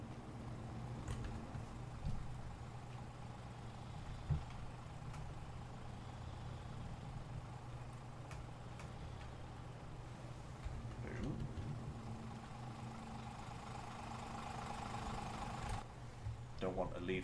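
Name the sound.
vehicle engine idling in Farming Simulator 22 video game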